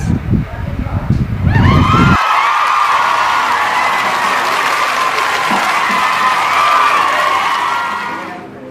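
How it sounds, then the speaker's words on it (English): An audience at a speaking event bursts into loud sustained applause with cheering and whoops to welcome the next speaker, starting after brief talk and holding strongly for several seconds before fading. "Let's give her a round of applause."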